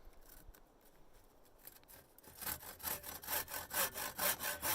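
Simple sawmill ripping a log into lumber the old-fashioned way, quiet at first, then a rhythmic run of loud rasping saw strokes close by.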